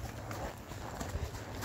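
A ridden horse's hooves clip-clop in a short, steady rhythm, fairly close and under a low background rumble.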